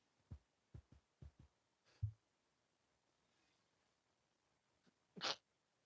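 A single sharp sneeze bursts out near the end, preceded by a few soft thumps in an otherwise quiet room.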